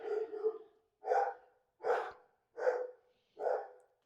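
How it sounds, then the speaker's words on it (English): A dog barks five times in a steady series, each bark short and fairly close, with clear gaps between them in an indoor space during a yoga session. "Oops, sorry about my dog."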